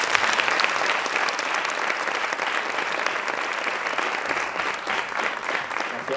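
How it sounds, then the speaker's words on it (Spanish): Steady, dense audience applause welcoming a speaker at a Fuck Up Nights event, a continuous wash of many hands clapping that holds evenly for about six seconds with no talk. "es Álvaro Benito, un aplauso."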